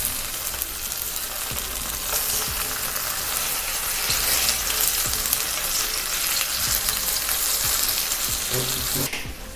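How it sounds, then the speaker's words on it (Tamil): Quinoa and tofu taco filling sears in a hot pan, a steady loud sizzle and crackle with faint stirring scrapes running throughout. "இது வந்து லைட்டாக 4 பக்கத்தையும் நம்ம சியர் பண்ணால் போதும்."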